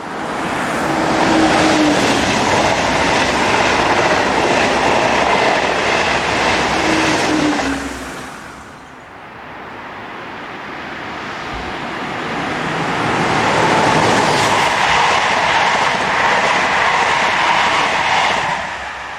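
A Class BB 22200 electric locomotive hauls a westbound intermodal freight past a road bridge, a loud rushing rumble with wheel clatter that drops away briefly midway, then swells back to full strength.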